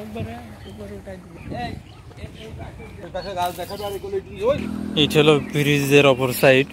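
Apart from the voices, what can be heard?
birds calling in the countryside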